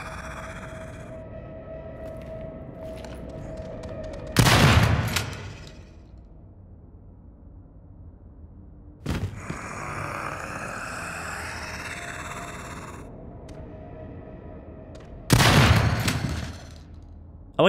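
Gunfire from shooting enemies in the sewer level of the horror shooter Daymare: 1998: three loud broadband shots spaced several seconds apart, with a quieter low hum between them.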